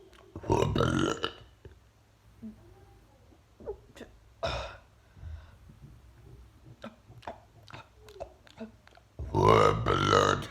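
Loud burps open and close a burping challenge, each a long rumbling eructation from someone close by, with quieter clicks and brief sounds in between.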